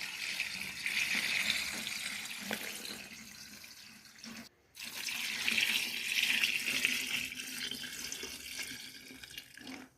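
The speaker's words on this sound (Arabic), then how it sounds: "وهضيف مية سلق الليمون على البرطمان بعد ما بردت." Cooled lemon-boiling water is poured into a jar of pickled lemons in a continuous splashing trickle, broken by a brief pause, then resuming close and clear.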